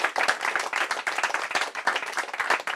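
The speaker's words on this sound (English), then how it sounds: "can we have a big round of applause for Jason Heller?" A small bookshop audience claps for author Jason Heller at a London store event, a brisk, close round of hand clapping that carries steadily throughout with no talking.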